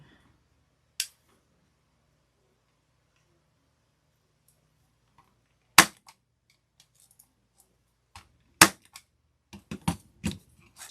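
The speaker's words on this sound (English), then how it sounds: "We're going to staple 2 pipe cleaners on." A stapler drives staples through pipe cleaners into a craft-foam Halloween ghost pancake wreath, sharp isolated snaps at scattered moments followed by a quick cluster of clicks and handling noise near the end, close and otherwise quiet.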